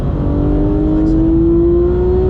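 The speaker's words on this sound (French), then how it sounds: "On accélère." A Porsche race car accelerates hard, its engine note climbing steadily in a loud, continuous rising whine over a dense mechanical roar from close by.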